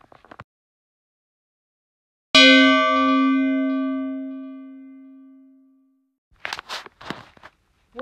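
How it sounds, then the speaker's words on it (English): A single bell struck hard in a video game rings out with a bright metallic clang and a long sustained tone that fades over several seconds, followed by short clattery footstep-like sounds. "Smash on that bell."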